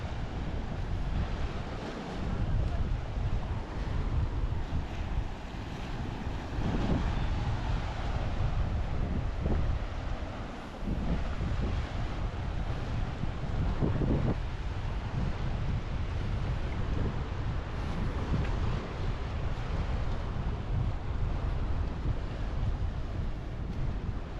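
Sea waves wash steadily into rocky inlets at Kappad Beach, a continuous broadband roar of surf with gusting wind buffeting the microphone, close and loud throughout with no voices.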